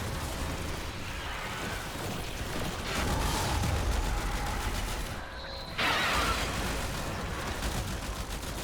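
Gunfire in the video game Warframe, a dense, loud barrage of rapid shots and booming impacts running continuously, with a brief dip midway before resuming.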